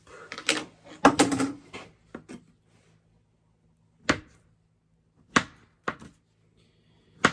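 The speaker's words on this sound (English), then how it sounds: "Just slice the bananas into thin slices, depending on how you want it" A knife cuts bananas into thin slices on a board, giving a series of sharp, close taps, first a quick cluster and then a few spaced single cuts.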